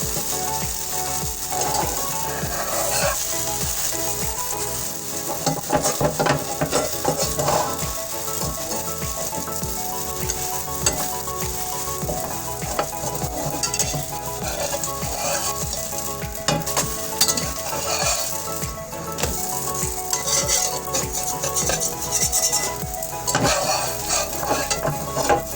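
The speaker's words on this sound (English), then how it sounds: "You see the excess is now frying." Pancake batter fries and sizzles in a hot pan, a steady crackling hiss that runs throughout, mixed with bursts of scraping and clattering from utensils.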